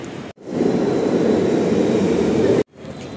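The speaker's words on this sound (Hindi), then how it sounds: "और अब मैं पहुंच गई हूँ, मेट्रो आएगी उस पर मैं बैठ जाऊँगी।" A Delhi Metro train sounds at a station platform as a loud, continuous roaring rumble with no talk, cut off abruptly at both ends.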